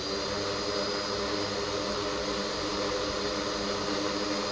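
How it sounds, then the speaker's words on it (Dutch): Motors of a firework drone spinning up, a steady, dense whir with a faint high tone, holding constant and close throughout with no talk. "start de motoren maar vast"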